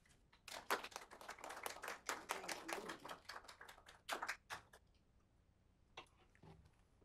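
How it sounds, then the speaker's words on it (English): A small audience at the Heritage Foundation claps to welcome a guest speaker: a few seconds of scattered, sparse hand claps from a modest group, fading out to quiet with a couple of stray claps afterward. "please give our guest a round of applause"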